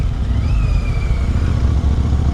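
A Royal Enfield Interceptor 650 rumbling while being ridden, a loud continuous low engine throb with a steady pulsing note and wind rush, no talking.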